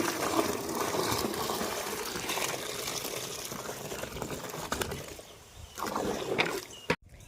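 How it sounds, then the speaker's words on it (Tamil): Water is poured and mixed into a sour-smelling solution, around ten litres in all, for feeding rose plants. It makes a steady, close rushing and splashing that eases and surges again before a sharp knock near the end. "இது கூட அப்படியே பத்து லிட்டர் அளவுக்கு நான் தண்ணி கலந்துக்கிறேன்"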